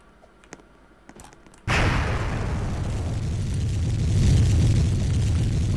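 In the Roblox video game, a rocket launches. After a few quiet clicks, a sudden loud, dense roar starts and holds steady, swelling slightly toward the end.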